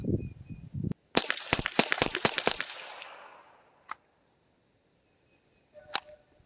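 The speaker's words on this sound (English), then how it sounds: "I'm going to burn the last few rounds I got here." A handgun fires its last rounds at an outdoor range, a rapid string of sharp, loud cracks close by, followed after a pause by two more isolated shots.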